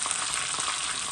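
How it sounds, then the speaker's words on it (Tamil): Onions are dropped into a hot tempering of spices for a Jaffna-style mutton curry, and the oil answers with a dense, even sizzle that stays close and constant throughout. "போட்டுட்டு தாளிச்சு வர வெங்காயத்தை போடணும்."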